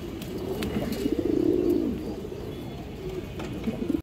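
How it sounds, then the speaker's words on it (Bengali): A male pigeon coos at a farm selling pigeons, giving a low, throaty rolling coo that swells in the middle and returns briefly near the end, close and clear over a quiet background. "এই যে দেখেন দর্শক ওর ডাকাডাকিটা দেখেন, খুবই অ্যাক্টিভ নর, সুস্থ সবল কবুতর"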